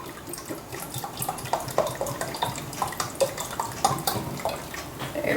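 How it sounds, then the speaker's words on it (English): Apple cider vinegar poured into a container for homemade salad dressing, a close, continuous splashing trickle with bubbly gurgles and small liquid plops throughout. "now I'm finishing off a cup of apple cider vinegar"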